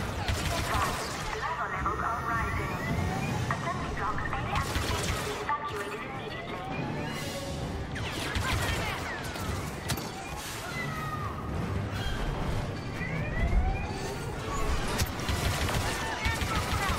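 Rapid gunfire crackles through a Star Wars Battlefront II firefight. The bursts are dense and continuous, with blaster-like zips sweeping across them, and a player's voice and in-game sounds mix into the thick battle noise.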